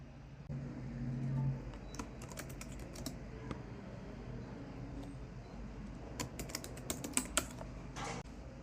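Keys clatter on a computer keyboard as a query is typed during a live SQL technical interview, quiet bursts of tapping that grow busier and more clustered toward the end against a faint room hum.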